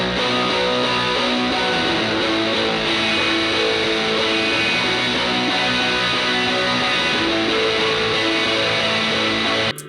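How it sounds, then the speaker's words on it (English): Layered electric guitar with two chords following the main rhythm in a shoegaze arrangement, dense and washy with heavy effects, sustained continuously at steady loudness before cutting off at the very end. "the final guitar track we have here is just 2 chords that follow the main rhythm that sound like this"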